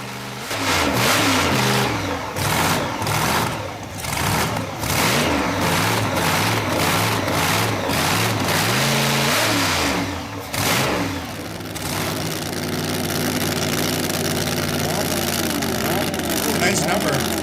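A supercharged car engine burning alcohol fuel revs hard in repeated loud bursts, climbing and dropping in pitch, then settles into a steady rough run. Voices are faintly present around it.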